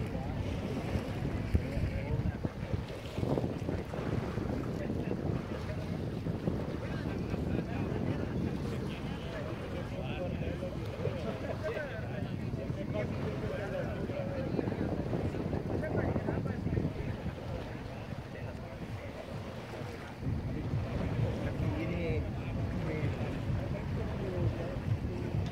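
A yacht sails out on Lake Maggiore near Tenero in steady wind, with continuous rushing wind noise and water wash against the hull filling the background at a fairly even level, while faint voices come through now and then.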